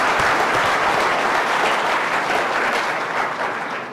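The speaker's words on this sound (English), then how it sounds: "Let's give her a round of applause." Sustained applause from a large audience at a city's State of the City address, dense clapping filling the hall and fading slightly toward the end.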